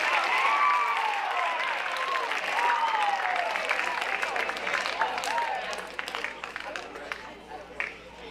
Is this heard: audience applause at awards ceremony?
yes